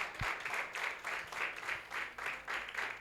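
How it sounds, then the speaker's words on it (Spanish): A church congregation applauds together, a soft, steady wash of clapping that swells and dips in a regular pulse, heard at a distance with little else over it. "Vamos, dale tu aplauso con ganas a Él."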